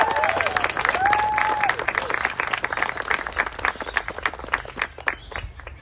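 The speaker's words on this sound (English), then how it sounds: "Let's give them a big round of applause" Wedding guests break into sustained applause for the newly married couple, a dense clapping crowd that fills the room before gradually thinning out near the end, with a voice briefly rising over it at the start.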